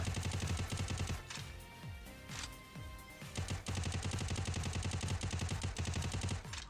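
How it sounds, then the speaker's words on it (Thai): Rapid automatic gunfire in Free Fire rattles in long, dense bursts with a brief pause in the middle, then resumes in steady, close, loud volleys. "เอาเอาเอายิงกันแล้วผมก็ยิงครับ"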